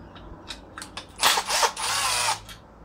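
Tool work on a clone Husqvarna 372 XP chainsaw as its muffler is pulled off, heard as a few short mechanical clicks followed by louder bursts of whirring, close by and without talk.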